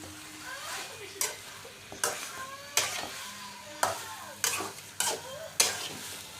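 Chicken being sautéed and stirred in a pan, with repeated sharp scraping strokes of a spatula every second or so over a steady frying sizzle, close and clear with no talking.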